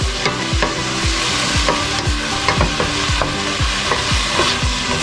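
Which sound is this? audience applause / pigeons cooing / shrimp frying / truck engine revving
shrimp frying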